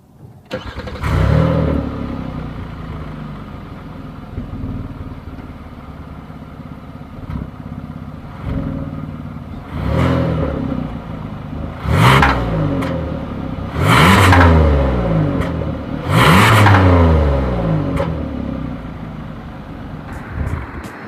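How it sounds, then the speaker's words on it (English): A 2020 Kia Telluride SUV engine starts and revs repeatedly, several sharp rising bursts of exhaust roar over a steady idle rumble, close by, with no talking. "As always, here is that exhaust clip."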